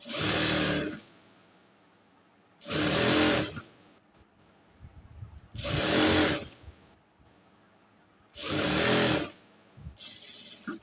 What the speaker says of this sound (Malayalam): ഈ സ്റ്റിച്ചിൽ കൂടെ ഒന്നുകൂടി സ്റ്റിച്ച് ചെയ്ത് പോകണം കേട്ടോ ഈ സ്റ്റിഫിൻ്റെ മുകളിലൂടെ സ്റ്റിച്ച് ചെയ്യണം